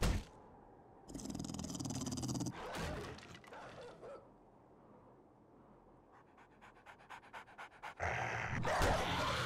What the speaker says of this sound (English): let's kill this damn dog first